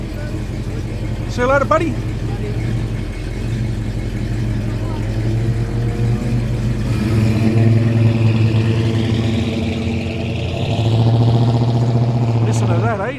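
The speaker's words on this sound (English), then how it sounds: "Here comes the Oldsmobile." An Oldsmobile muscle car leaving a street car meet in Sydney gives a deep rumble up close and swells as it revs and pulls away. Someone speaks briefly over the engine noise.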